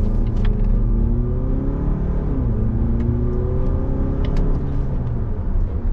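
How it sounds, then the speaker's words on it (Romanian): Volvo petrol hybrid car accelerating hard, heard from inside as the engine climbs through rising, gear-stepped drones and a deep rumble, loud and continuous with no talking. "Bă, fuge mașina, să-mi bag piciorul dacă nu fuge."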